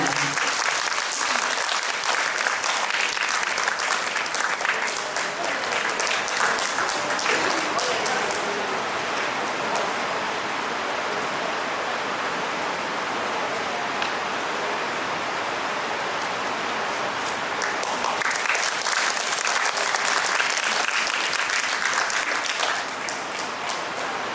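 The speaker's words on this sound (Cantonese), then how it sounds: "俾啲掌聲" Sustained audience applause at a stage award ceremony honouring performers and crew, a dense, even wash of clapping that stays loud throughout and eases slightly near the end.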